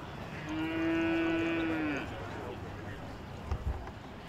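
An Ayrshire cow gives one long, loud, steady moo lasting over a second in a junior cow class at an agricultural show, with crowd murmur and faint background noise around it.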